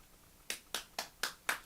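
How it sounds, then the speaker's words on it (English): Five sharp, evenly spaced claps or snaps at a poetry reading showroom event, sparse and fairly close, with no talk over them. "So good to have the clapping"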